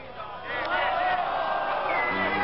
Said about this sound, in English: reaction of the crowd.